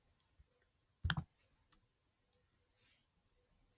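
A computer mouse gives a quick cluster of sharp clicks during a right-click to copy, with a few fainter isolated clicks following and one more at the end, close and quiet with no talking.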